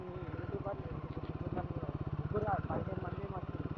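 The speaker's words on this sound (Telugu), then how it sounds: "హిమాలయన్ బైక్ వేసుకున్నా" A Himalayan motorcycle engine thuds rhythmically and steadily up close while riding on a trail toward waterfalls, with people talking over it.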